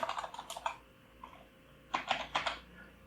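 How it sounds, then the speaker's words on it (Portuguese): Someone types a git command at a computer keyboard, producing quiet, close clusters of rapid key clicks in two short bursts separated by a pause. "Vou digitar git checkout -b feature"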